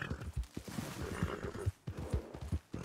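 Horse hooves clip-clop in Red Dead Redemption II, an irregular series of dull thuds at a walking pace that sound close and fairly loud.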